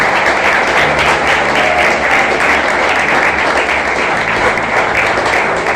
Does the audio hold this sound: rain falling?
no